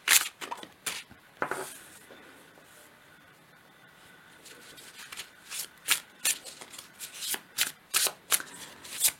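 A deck of moon oracle cards is shuffled by hand close up, giving quick papery riffles and flicks in irregular bursts with a quiet pause in the middle. No one speaks.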